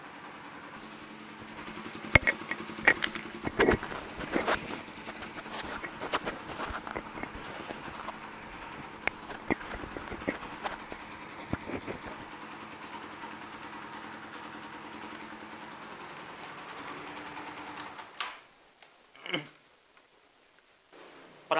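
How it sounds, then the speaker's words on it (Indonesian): A used Suzuki Satria FU fuel-injected DOHC motorcycle engine idles steadily, then gets a few short revs with a light ticking rattle before cutting off near the end. "ada bunyi-bunyi ciri khas DOHC kayak gemericik begitu."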